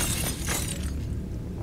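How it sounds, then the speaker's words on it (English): A mirror shatters in the horror video game Nightmare House remake, a loud burst of breaking glass with scattering shards tapering off into a dull rumble. "that mirror just smashed"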